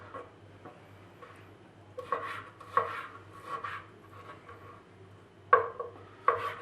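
A knife chops beef into small cubes on a cutting board, giving soft, irregular thuds and scrapes at close range in an otherwise quiet kitchen.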